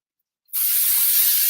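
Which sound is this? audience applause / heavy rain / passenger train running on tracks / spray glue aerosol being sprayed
spray glue aerosol being sprayed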